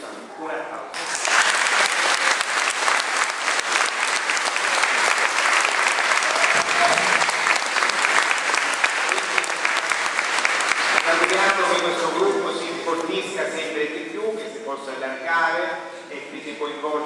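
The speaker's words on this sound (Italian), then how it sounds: "Un applauso." Audience at a New Year concert in Licusati claps steadily and loudly for a local music group, a sustained burst of applause that thins toward the end as voices and music emerge.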